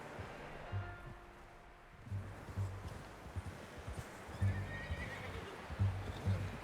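Horses in the western game Red Dead Redemption 2 whinny and neigh several times, mixed with clip-clop hooves and rustling movement at close range.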